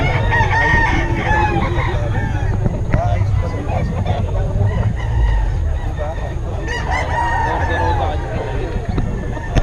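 Roosters and other fowl crow and cluck in a noisy outdoor scene in Bocaue, with people talking over the birds throughout.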